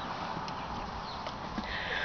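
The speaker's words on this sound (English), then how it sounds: "What beautiful horsies they are." Horses walk nearby, their hooves clip-clopping in a loose, quiet rhythm over faint outdoor background noise.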